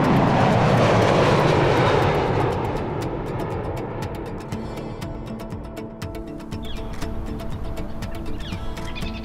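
Boeing 787 jet engines roar loudly in a test flight, a broad rushing drone that eases slightly after the first few seconds and then holds steady, with faint bird chirps over a quiet prairie in the background.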